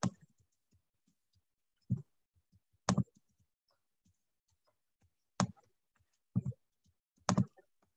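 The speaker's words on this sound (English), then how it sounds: "Someone is a very loud typer." Loud computer keyboard typing picked up over an online meeting: a handful of sharp, isolated keystroke clicks spaced irregularly across several seconds, with near silence between them.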